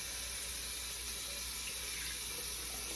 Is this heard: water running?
yes